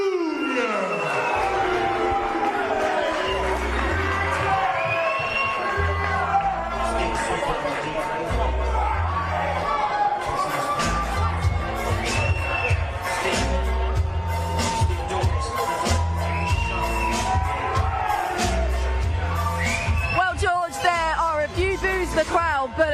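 A loud crowd at a boxing weigh-in for a fight in Manchester, a dense roar of shouting, jeers and cheers around a boxer's introduction, with an announcer's voice over the top.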